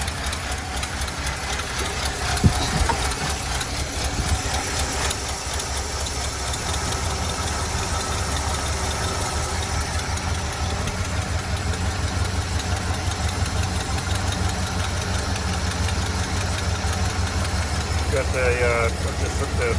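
Idling engine of a square body Chevy C30 dump truck, previously inoperable and just given a reconnected fuel pump; a steady, continuous running drone with a knocking texture holds throughout, close and fairly loud, with no talk.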